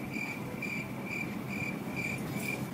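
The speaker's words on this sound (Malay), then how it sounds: "bunyi cengkerik itu dihasilkan daripada geseran sayapnya." A cricket chirps in a steady, evenly spaced rhythm, six short trills over a soft background hiss.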